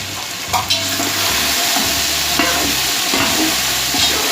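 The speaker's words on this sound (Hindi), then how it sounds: "अब हम 5 मिनट के लिए इसको भूनेंगे।" Whole spices (black cardamom, cinnamon, cloves, black pepper and crushed nutmeg) roast in a pan for chicken pulao, giving a steady close sizzle with scraping stirs now and then, and no talk.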